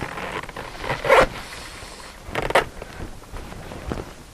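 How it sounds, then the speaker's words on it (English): A zipper on the folding soft top of a 1990-1997 Miata is pulled across and worked into place, giving two short, close scraping zips about a second apart amid quieter rustling and handling. "Zipper folds up and into place"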